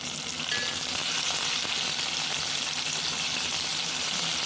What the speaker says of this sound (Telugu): ఆనియన్స్ గోల్డెన్ కలర్లోకి వచ్చేదాకా మనం ఫ్రై చేసుకోవాలండి.